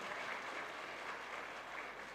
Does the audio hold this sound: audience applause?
yes